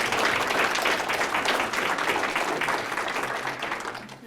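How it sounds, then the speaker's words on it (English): An audience at a Black History essay and oratory contest gives a student a sustained, dense round of applause, steady and loud throughout before tapering slightly at the end. "I want y'all to give her a round of applause."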